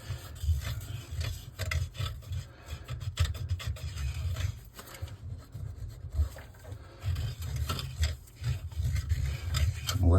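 PVC cleaner being rubbed onto a kitchen drain pipe, a steady close scrubbing and rasping that runs with little break, louder and softer in turns, with no talking.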